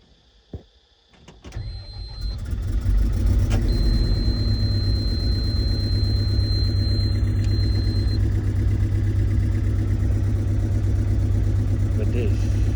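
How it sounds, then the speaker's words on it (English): A JS220 excavator engine cranks and starts, then settles into a loud, steady idle that runs to the end, with a brief electronic beep tone along the way. "now I will start the engine again"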